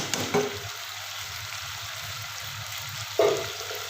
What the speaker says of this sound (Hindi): अब मैं इसमें डालती हूँ थोड़ा सा पानी ताकि आलू जो है वो अच्छी तरह गल जाए